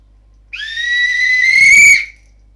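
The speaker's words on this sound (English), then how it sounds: "That way, whenever I need to, I would have whistle." A survival whistle gives one loud, piercing blast lasting about a second and a half, steady and close, ending with a short breathy rush before silence.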